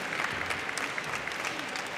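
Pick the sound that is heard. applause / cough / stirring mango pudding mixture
applause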